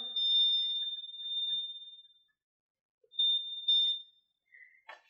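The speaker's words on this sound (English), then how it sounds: "It will emit a high-pitched beeping at maximum volume." A thin, piercing high-pitched electronic tone from an open-ear sport earbud's locator sounds in two long beeps at maximum volume separated by a short silence, followed by faint clicks.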